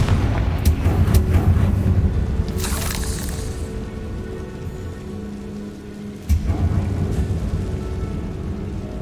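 A Confringo blasting spell explodes in a video game while exploring for a hidden wine cellar, giving a rushing burst that fades, then a sharper crack later, over a low rumbling ambient bed.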